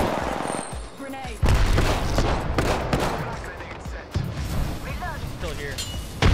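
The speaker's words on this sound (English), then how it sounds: "Grenade." Apex Legends firefight with a grenade blast and rapid gunfire, dense bursts of shots and booms with metallic clinks and brief voices mixed in, loud and close.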